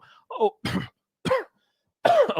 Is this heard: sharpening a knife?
no